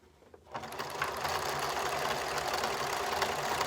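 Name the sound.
sewing machine stitching a fabric mask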